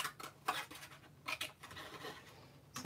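Scissors rough-cutting around a paper sentiment during card-making, giving soft, faint scratchy snips and rustles in short irregular bursts, close and quiet.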